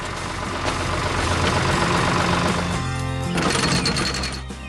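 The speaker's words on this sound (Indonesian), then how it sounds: "Traktor itu sedang bekerja keras membajak tanah agar siap ditanami benih-benih yang sehat." An animated tractor works hard plowing soil, its engine giving a steady, busy mechanical drone with a rattling chatter that shifts in tone partway through, loud and close with no talk.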